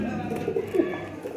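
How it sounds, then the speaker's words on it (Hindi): A Ferozpuri pigeon with a fully net-patterned coat coos in low, soft, rolling murmurs that swell and fade close by, with faint background noise underneath. "बहुत अच्छा फिरोजपुरी कबूतर है ये"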